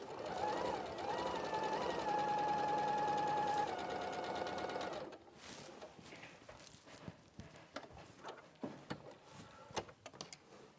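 A sewing machine stitches a dart in a steady, loud mechanical whir for about five seconds, then stops. Scattered clicks and handling noises follow.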